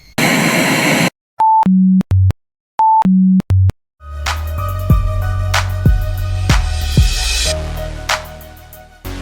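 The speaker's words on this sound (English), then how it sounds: "You have received a voicemail." A voicemail alert: a burst of static, then two repeated sequences of descending electronic beeps, followed by a loud droning radio-like rumble with clicks.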